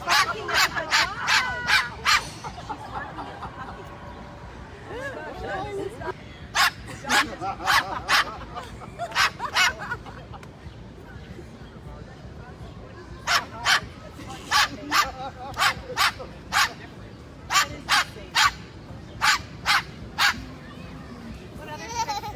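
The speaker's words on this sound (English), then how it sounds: "now she's barking at the dog." A bird barks at a dog, giving sharp, bark-like calls in quick clusters of three to six, separated by pauses, with people talking quietly in between.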